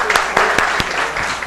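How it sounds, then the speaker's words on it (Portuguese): A brief burst of scattered clapping from a small audience in a lecture hall on criminal procedure, a handful of sharp claps over a faint murmur of voices. "Merece uma salva de palmas."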